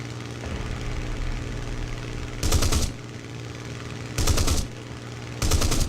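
Hawker Typhoon cannon and machine gun fire against a B-25 bomber in War Thunder, three loud rapid bursts spaced over a steady droning aircraft engine.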